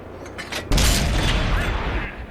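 A tank cannon hit in World of Tanks on Xbox, with a few soft thumps followed by a sudden loud booming blast and a sustained rumbling roar that slowly fades.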